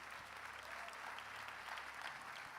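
Applause from a church congregation, steady clapping throughout, faint and distant.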